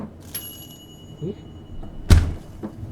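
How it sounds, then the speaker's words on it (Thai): A door opening inside a horror video game about ghosts and a cow, a single thudding creak-and-thump landing loud against a quiet ambient hum, with softer knocks before and after. "เสียงเหมือนคนเปิดประตู"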